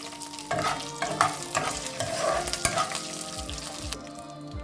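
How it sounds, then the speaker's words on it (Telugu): Mustard seeds and fenugreek crackle in hot oil for a coconut chutney tempering, with a steady close sizzle broken by several sharp popping bursts; no voices. "దీంట్లోకి కొన్ని ఆవాలు వేసి ఆఫ్ చేసేస్తాను. ఆవాలు ఈ వేడి మీద వేగిపోతాయి."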